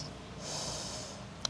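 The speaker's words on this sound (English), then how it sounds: "Breathing in through the nose." A steady nasal inhale during yoga practice in downward facing dog, one soft airy breath in through the nose lasting about a second, close and quiet, ending in a small click.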